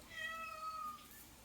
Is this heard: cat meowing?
yes